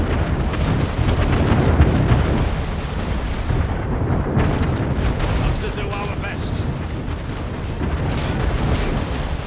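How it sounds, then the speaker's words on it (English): Ship cannons booming in a naval battle in the game Anno 1800, a dense, continuous rumble of heavy gunfire and explosions filling the whole stretch, with a voice talking faintly underneath. "Use our rear cannons."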